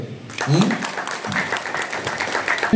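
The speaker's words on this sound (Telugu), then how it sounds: "మీరు గట్టిగా చప్పట్లు కొడితే" Audience applause at an Ugadi award ceremony at BVR Kala Kendram in Tadepalligudem: dense, steady clapping starts after a brief quiet moment and fills the rest of the stretch, with some voices mixed in.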